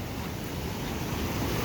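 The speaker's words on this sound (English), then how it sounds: "The waves here are giant" Large ocean waves roll in on Phu Quoc Island, Vietnam, heard as a steady, dense wash of surf mixed with wind noise, continuous and moderately loud throughout with no talking.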